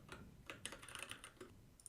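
Quiet, close typing on a computer keyboard: a brief flurry of light, irregular key clicks over about two seconds, with no voices.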